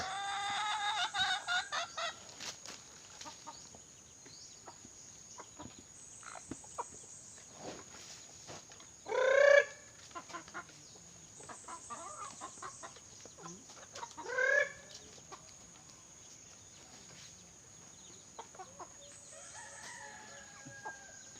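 Backyard chickens clucking softly with two loud nearby rooster crows standing out, over a quiet outdoor background with faint insect or bird hiss.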